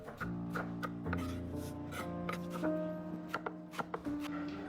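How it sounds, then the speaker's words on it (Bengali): A knife chops red cabbage on a board in quick, crisp repeated strokes, close and clear, over a faint steady tonal background. "এদিকে লালচে বাঁধাকপি কুচি করে কাটছেন উনি।"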